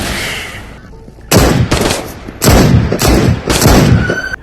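A gun firing in the video game Into the Radius lets off four loud, heavy blasts in quick succession, each with a short booming tail, after a brief quiet start.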